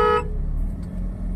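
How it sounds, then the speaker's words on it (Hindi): A car horn gives a short, loud toot at the start during a driving lesson in Lucknow, then cuts off, leaving a low engine rumble alone. "और हॉर्न दे दो।"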